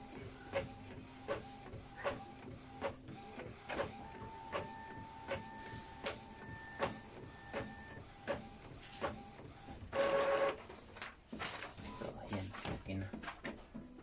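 An Epson L3250 inkjet printer whirs and clicks rhythmically as it pulls paper through, with tonal motor hums and a brief louder mechanical burst partway in.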